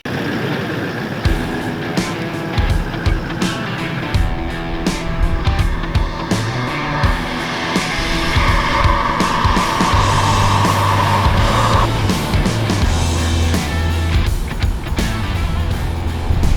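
A 40th anniversary Toyota 79 series 4WD driving sand tracks, its engine droning loudly and steadily from inside the cabin, with occasional bumps and rattles and no talk.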